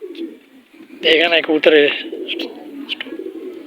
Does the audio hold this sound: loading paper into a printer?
no